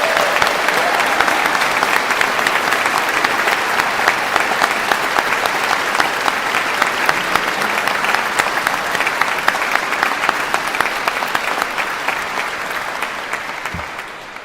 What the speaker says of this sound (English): give us an even louder round of applause for the graduates